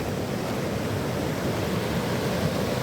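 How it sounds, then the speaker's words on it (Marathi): Heavy monsoon rain in Karjat near Ambivali village, where an earthen dam has burst, makes a dense, steady roar of rushing water and downpour, loud and unbroken with no voices. "कर्जतमध्ये सध्या मुसळधार पाऊस सुरू आहे"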